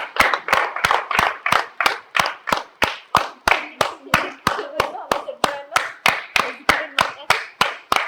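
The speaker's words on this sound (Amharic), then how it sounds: "ጭብጨባ ጭብጨባ ያስፈልጋል።" A group of people claps in a steady, even rhythm at a gift-giving celebration, loud and close, with about three claps a second. Voices are heard underneath the claps.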